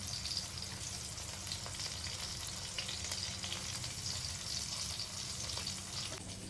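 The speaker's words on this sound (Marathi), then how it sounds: "आता हे फटाफट मी तळून घेतो" Bombay duck fish frying in a pan of oil, a constant, even sizzle and hiss at moderate level with faint occasional ticks, no talking.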